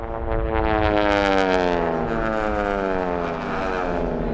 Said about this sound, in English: Now that low rumble you hear, that is that Pratt Whitney engine.